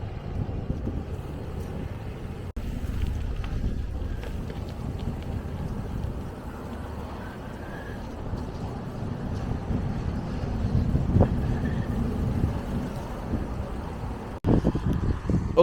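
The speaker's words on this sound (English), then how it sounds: "it's a bit windy, you might not pick up my voice here" Steady wind buffets the microphone throughout on an island in Kintyre and Arran, a constant low rumble with gusts, and a vehicle engine drones underneath.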